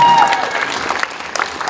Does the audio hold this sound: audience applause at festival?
yes